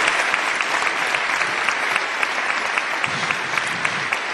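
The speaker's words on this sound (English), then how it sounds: "they deserve a round of applause" Steady, dense applause from an audience in a state House legislative chamber, honoring the nonpartisan staff; continuous clapping with no voices over it for the whole stretch.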